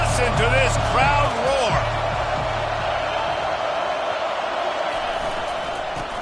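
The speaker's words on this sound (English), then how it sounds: "and listen to this crowd" Stadium crowd roaring in a college football video game featuring Texas A&M, a broad sustained roar under a commentator's voice that eases slightly toward the end.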